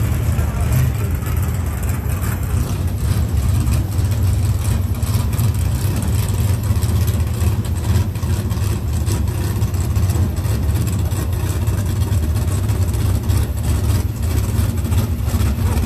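A drag racing car idles with a deep, rumbling engine drone that stays loud and steady throughout, with voices talking over it.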